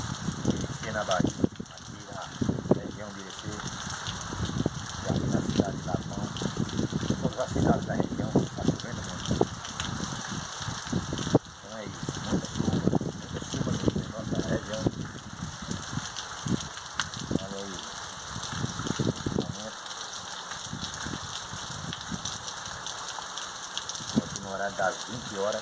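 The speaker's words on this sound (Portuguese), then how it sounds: "É muita chuva aqui no sertão da Bahia." Heavy rain with wind at night in the sertão around Irecê, Bahia, a steady broadband hiss and patter that holds loud throughout, with someone talking over it for most of the clip.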